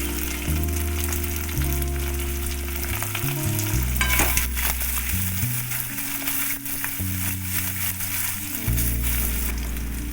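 Potatoes frying in hot fish oil, added among other vegetables, give a steady loud sizzle with stirring scrapes through the whole stretch. Nobody talks.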